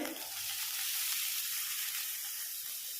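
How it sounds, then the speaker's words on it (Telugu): Broad beans frying and sizzling in hot tempering oil, stirred in the pan, a steady dense hiss that stays loud and unbroken throughout with no voices. "ఈ చిక్కుడుకాయలని తాలింపులో వేసుకోవాలి."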